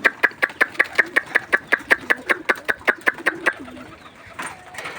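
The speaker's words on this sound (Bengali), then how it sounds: "আর এই যে কবুতরগুলো সব ভিতরে যাওয়া শুরু করছে খাবার খাওয়ার জন্য।" A pigeon coos in a quick, even run of about twenty close, loud pulses while pigeons head in to feed, then the calls stop and a quieter rustle and faint background noise follow.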